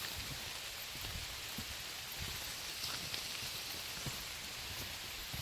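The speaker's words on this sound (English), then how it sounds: "You can hear the rain pouring." Rain pouring onto a forest canopy during a thunderstorm, a steady dense hiss of drops with scattered closer patters on leaves, soft and continuous with no voices.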